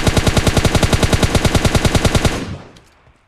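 Rapid automatic gunfire in PUBG Mobile Lite, a loud steady burst of evenly spaced shots lasting over two seconds, then cutting off and fading into a quiet tail.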